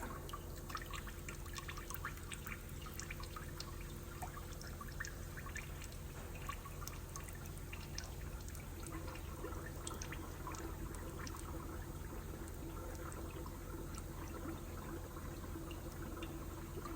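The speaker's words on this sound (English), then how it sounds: "it's just a messy job filling it back up again" Coolant and water being poured into a DAF CF85 truck in a workshop, a continuous faint trickling and gurgling pour that holds steady throughout over a low background hum.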